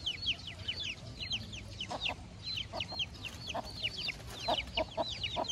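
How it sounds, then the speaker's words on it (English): Chickens cluck softly amid a constant stream of rapid, high-pitched chick peeping, close by and steady throughout. "You see the baby chickens?"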